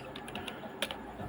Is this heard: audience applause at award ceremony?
no